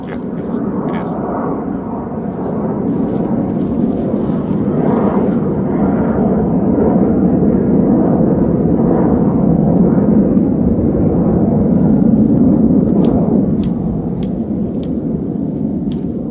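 A steady, loud engine roar of a passing aircraft builds and holds for several seconds, broad and rushing, with a few faint clicks near the end.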